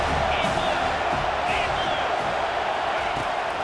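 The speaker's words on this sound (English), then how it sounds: "This crowd knows when to bring it." A stadium crowd in the College Football 25 video game gives a steady, broad roar of cheering throughout, with a few faint whoops rising above the wash.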